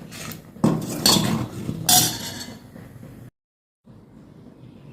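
Urad dal porridge is stirred in a pot, with a metal spoon clinking and scraping against the pot in a few loud bursts, then a short silence and a faint quiet stretch.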